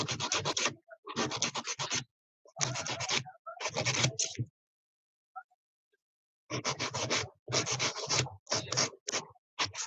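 Nail file rasping across fingernails, including a pinky nail, in quick bursts of back-and-forth strokes with short pauses between them, close and fairly loud, no talking.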